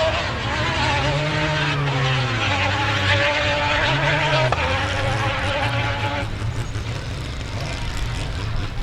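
A rally car with a 2-litre Honda engine races on a special stage, its engine loud and droning as it revs and shifts pitch while passing, steady and close throughout.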